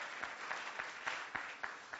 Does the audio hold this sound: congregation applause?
yes